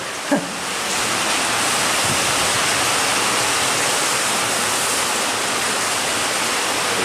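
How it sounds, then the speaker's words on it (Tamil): Heavy rain pours down at an outdoor shooting location as a loud, dense, continuous hiss, after a single soft knock at the very start. "நம்ம ஷூட் எடுக்கிற இடத்துல வந்து பயங்கரமாக மழை பேஞ்சிட்டு இருக்கு"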